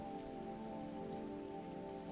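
Rain falling in a constant, gentle wash with a few brighter drop patters scattered through it, heard alone.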